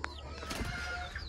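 A chicken clucks briefly at close range, short throaty calls over faint background noise.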